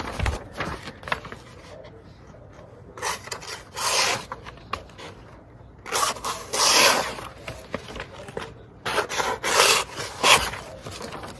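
A True Temper Flint Edge axe from Kelly Works slicing through a sheet of printer paper, giving several close, rough rasping tears and scrapes in irregular bursts with brief pauses between.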